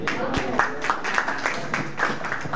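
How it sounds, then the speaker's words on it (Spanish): Applause from an audience, a steady wash of clapping with a few sharper claps standing out. "un aplauso por favor para Edgar Cooper del colectivo Poetálica"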